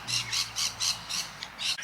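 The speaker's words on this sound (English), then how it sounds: "the sounds of the birds are so lovely. It seems like they're everywhere." Birds squawking in a spring park in the Southern Highlands, a run of harsh, repeated calls in quick succession, close and fairly loud with no talking.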